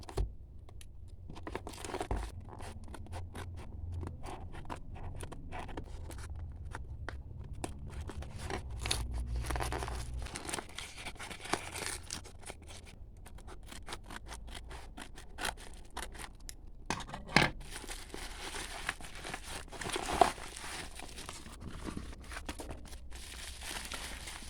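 Paper and plastic packaging of a comic book order from Gramedia being torn, cut and crinkled open, a steady run of close rustling, snipping and crumpling with sharper tearing bursts throughout.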